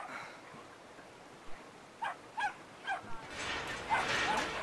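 A dog in the video game Brothers: A Tale of Two Sons gives a short run of sharp barks and yips, about five in quick succession, at moderate distance over quiet game ambience.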